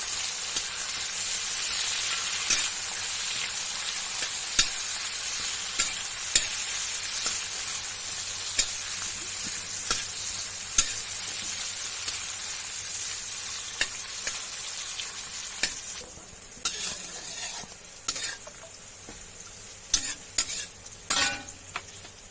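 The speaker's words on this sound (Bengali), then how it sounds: "এবার ওই তেলের মধ্যেই কাজু এবং কিশমিশ ভেজে নিতে হবে।" Cashews and raisins fry in hot oil in a pan, a steady, close sizzle that runs throughout, punctuated by regular clicks and scrapes of stirring, with no one talking.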